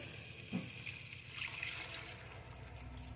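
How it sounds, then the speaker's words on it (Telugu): A glass of water poured into a masala gravy curry, a soft continuous splashing and trickling over a low kitchen background, faint and steady for a few seconds. "వాటర్ పోసి ఉడకనివ్వాలి."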